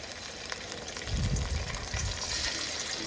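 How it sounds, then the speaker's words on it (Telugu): Fish pieces frying in sesame oil for a village-style fish pickle, a close crackling sizzle that swells into a louder bubbling burst midway, with no voices. "మనం మీడియంలో పెట్టి ఇలా వేయించుకోవాలండి దోరగా."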